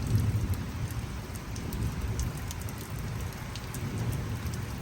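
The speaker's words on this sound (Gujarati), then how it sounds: "ફરી એકવાર વાવાઝોડા સાથે ધોધમાર વરસાદ બનાસકાંઠામાં જુઓ તમે લાઈવ દ્રશ્યો" Heavy rain pours steadily during a thunderstorm in Banaskantha, Gujarat, amid flooding, a dense continuous roar with low thunder rumbling beneath it and no voices.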